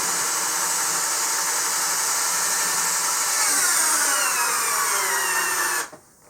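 A 12-volt drill drives a lag bolt into hard pressure-treated wood, a loud, steady high-pitched whine with a strained grinding edge that holds for about six seconds before cutting off abruptly.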